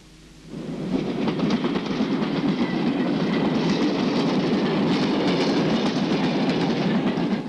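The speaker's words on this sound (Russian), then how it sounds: "Колесный скат нагружен весом вагона" Railway wagon rolling on rails, a loud continuous rumble with rhythmic clickety-clack that starts after a brief quiet moment and holds steady throughout.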